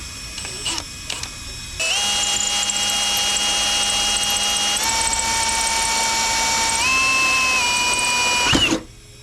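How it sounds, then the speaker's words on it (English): A power drill bores a hole through a fiberglass front bumper on a 1999–2000 Honda Civic, a steady high whine running for several seconds with pitch steps as the bit bites, starting after a few short bursts and stopping abruptly. "So we got the hole drilled out right there"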